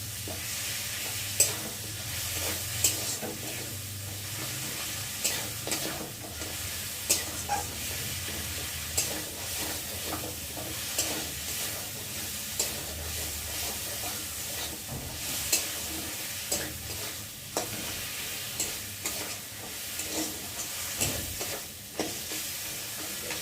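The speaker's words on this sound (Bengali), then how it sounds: "তো দেখো ভালোভাবে কষিয়ে নিয়েছি আদাটাকে" Ginger fries in oil in a pan under a steady soft sizzle, with regular spatula scrapes and taps roughly every second or two throughout and no voices.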